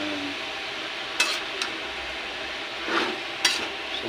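Banana blossom is stirred and sautéed in a pan, a continuous soft sizzle with a few sharp utensil scrapes and clinks against the metal, close up and with no talking.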